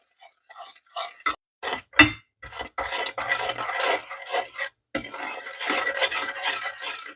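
Spoon stirring cream and sugar in a pot until the sugar dissolves, for a gingerbread pudding cake, giving close rasping scrapes in short bursts that run into a steady scraping stretch, with no talk.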